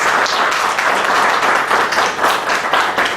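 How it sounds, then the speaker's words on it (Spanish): Audience applause at a university faculty event, a dense steady clapping that fills the room without a break for about three seconds, with no voices over it. "Pido un muy fuerte aplauso."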